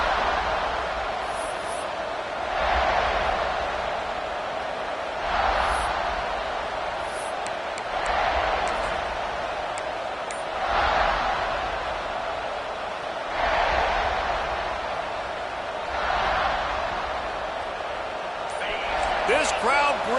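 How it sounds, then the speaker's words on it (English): A college football stadium crowd in a game involving Clemson roars in broad swelling waves every few seconds, a dense distant wash of cheering with faint whistles and occasional sharp sounds. "This crowd bringing the energy and noise early."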